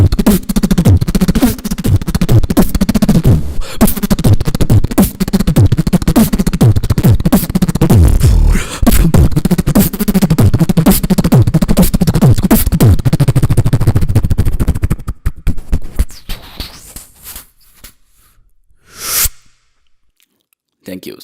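A voice imitates a helicopter with the mouth, making a dense, rapid, pulsing chop of beatbox sounds mixed into a beat. It runs loud and continuous for about fifteen seconds, then breaks into sparse clicks and a brief burst.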